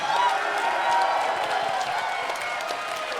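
Audience at a Guilty Gear Strive Top 8 fighting game tournament, sustained loud applause and cheering from a crowd, steady throughout without letting up.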